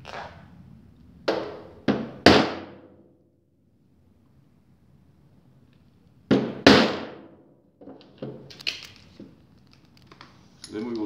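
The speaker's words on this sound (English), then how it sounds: "Then we'll take our punch and punch the rivet so we get it directly in the center." A punch is struck on a rivet of a rider buckle to center it: a few sharp metallic knocks in small clusters with quiet gaps between, close and loud, followed by lighter taps.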